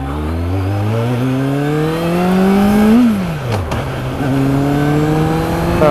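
Suzuki GSX650F motorcycle engine heard while riding, loud and continuous, revs climbing steadily through a gear, dropping sharply at a shift around the three-second mark, then pulling again at a steadier pitch.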